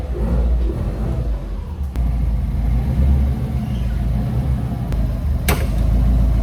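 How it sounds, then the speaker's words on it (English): A car engine rumbles low and steady through a muffled exhaust, close by, with no talking. "This is a mufflered exhaust, so it's a little bit more muffled"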